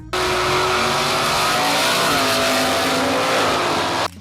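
A 1972 Pontiac Firebird Formula 400 with dual exhaust and solid lifters, heard as a loud, steady, close engine roar held at high revs for a few seconds, then cut off abruptly.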